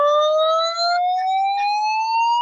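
Desmos audio trace sonifies a graph as one continuous electronic tone that glides steadily upward in pitch for a couple of seconds, loud and clear with no talking over it.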